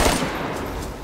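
Gunfire in the survival video game DayZ bursts out loud and close as a rapid, dense volley of shots packed into a second.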